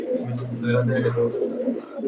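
A pair of black-based shorting pigeons coo softly and closely in low, rolling calls, with a voice speaking over them.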